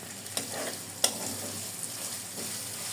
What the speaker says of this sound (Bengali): মাংসের শুটকিটা ভালো করে পেঁয়াজ রসুনের সাথে এই যে আর গরম মশলার সাথে ভালো করে ভেজে নিচ্ছি।